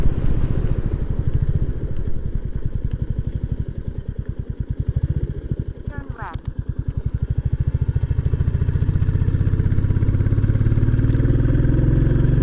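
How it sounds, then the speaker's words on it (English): A Royal Enfield Classic 350 motorcycle engine thumps steadily close by, its beat pulsing as it climbs a steep moorland road, with a brief clatter midway and louder revving toward the end. "Oh, that lovely engine note."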